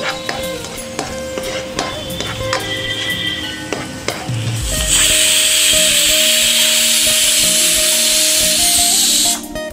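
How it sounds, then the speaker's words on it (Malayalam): Nuts and raisins frying in ghee for a sweet potato payasam: first a few metal clinks and stirring taps, then a loud, continuous, close sizzle that swells and holds before cutting off. "ഈ പാത്രത്തിൽ നമുക്ക് കുറച്ച് നെയ്യ് ചേർത്ത് ഇതിലേക്ക് കുറച്ച് നട്ട്സും കിസ്മിസും നമുക്ക് വറുത്തെടുക്കാം."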